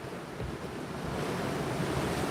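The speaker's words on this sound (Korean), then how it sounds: "파도 소리 들리시나요? 파도 소리?" Ocean waves wash steadily onto the shore at Gangneung beach, a continuous broad surf roar with some wind noise buffeting the microphone and no speech.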